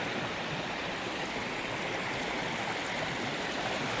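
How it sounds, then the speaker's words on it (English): Water gushing out of the ground after a heavy storm, a loud steady rushing wash like a stream or small waterfall, continuous and close with no voices. "Got water coming out of the ground."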